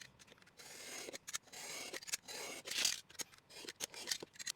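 Scissors snip through a strip of paper in a series of quick, close crisp cuts with short pauses between strokes, rasping faintly as the blades slide.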